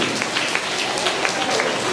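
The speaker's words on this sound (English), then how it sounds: "We should give clap to this student" An audience at a school assembly applauding a student, a dense, steady wash of many hands clapping throughout, loud and fairly close.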